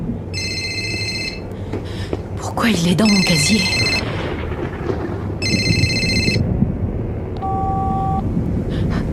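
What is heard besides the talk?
mobile phone ringing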